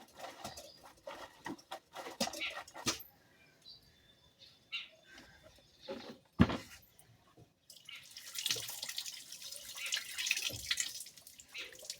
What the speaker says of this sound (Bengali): এখান থেকে এক মগ জল উঠিয়ে নিয়ে এই বালতিটার ভিতরে দিয়ে দিই